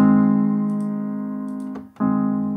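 Sustained tones from the Oeser virtual piano, picked up by the top microphones inside the string opening, ring steadily with a rich harmonic body, fade slightly, briefly cut out, then return at full level.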